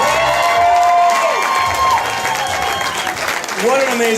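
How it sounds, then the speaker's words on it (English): Audience applause and cheering for a comedian at a charity comedy show, a dense sustained wash of clapping and shouts under a host's loud voice. "Let's hear it again for Tracy Schroeder."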